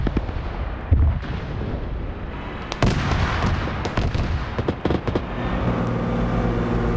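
Rocket artillery pounds away during a tank-and-IFV battle in a video game, with sharp blasts near 1 and 2.8 seconds over a constant rumble of gunfire and engines, ending in a droning vehicle hum.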